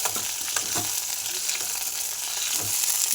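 Okra frying in a pan with garlic, a steady close sizzle and crackle with occasional stirring scrapes and no talking.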